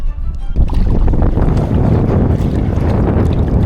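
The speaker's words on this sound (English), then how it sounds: "The wind has just picked up." Strong Arctic wind blasts across open water around a kayak, a loud, continuous buffeting roar on the microphone mixed with faint splashing, with no voices.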